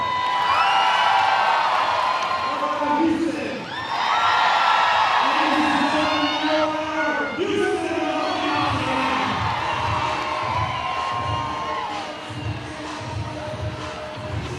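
Stadium crowd cheering, whooping and yelling during a dance-off at a Banana Ball baseball game, with a loud, sustained roar of many voices and rising shouts that swell and fade over several seconds.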